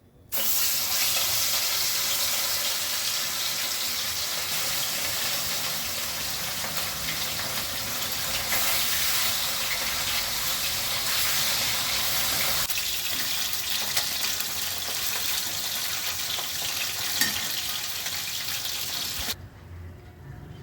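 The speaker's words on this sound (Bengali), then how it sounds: "এবার মাছটা ভাজব" Rohu fish frying in hot oil in a home kitchen gives a continuous, even crackling sizzle that stays loud and close for about twenty seconds, with no talking over it.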